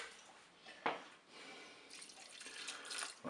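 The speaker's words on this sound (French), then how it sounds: "Là je vais rajouter un tout petit peu d'eau pour recouvrir bien les spaghettis." Water running from a tap into a pot of spaghetti in a home kitchen, a soft close trickle with a brief splash, then a brighter, heavier stream filling toward the end.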